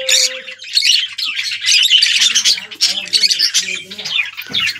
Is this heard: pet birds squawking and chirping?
yes